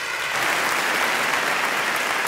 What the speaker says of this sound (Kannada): ಬರ್ಲಿ ಚಪ್ಪಾಳೆ ಫಾರ್ ಕಿರಣ್ ರಾಜ್